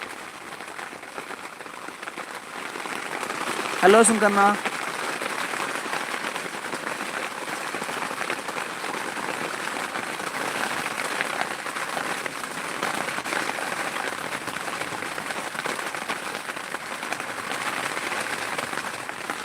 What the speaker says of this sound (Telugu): ఇక్కడైతే వర్షం చాలా ఎక్కువగా వస్తుంది